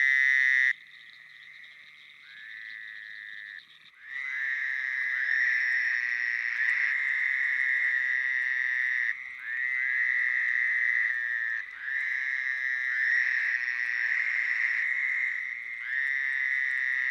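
A frog call, bleating like a sheep caught in a trap, rises into long, loud, nasal drones that repeat almost without break over a fainter chorus, close and with no voices.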